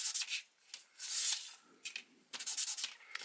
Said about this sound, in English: just get a bit of sandpaper and just run that along there for a little while